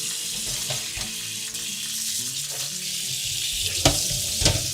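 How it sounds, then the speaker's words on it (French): Cold tap water runs steadily over freshly boiled food in a kitchen during a Limousin-style cooking session, a hissing, even stream with a few clunks and splashes, close and without talk. "Et on va tout rincer à l'eau froide."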